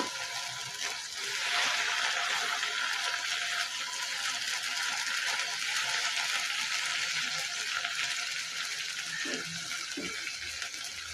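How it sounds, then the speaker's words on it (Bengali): Okra sizzles steadily in a pan over medium-low heat, a dense continuous frying hiss with a few soft stirring scrapes near the end, close and fairly loud with no talking. "চুলার আঁচটা মিডিয়াম লোতে রেখে একটু পরপর নেড়ে চেড়ে ঢ্যাঁড়সটা ভাজতে থাকবো"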